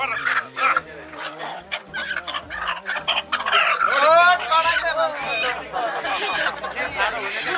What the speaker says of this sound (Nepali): बाँच्ने भाले ल्याउनु भयो कि ल्याउनु भएन